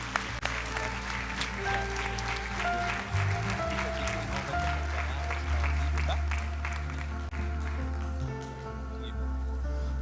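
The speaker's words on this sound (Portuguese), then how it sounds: "Vamos dar uma salva de palmas para Jesus" Congregation applauding for Jesus during a Portuguese-language evangelical church service, steady clapping lasting throughout with music or a low hum beneath it and some voices mixed in.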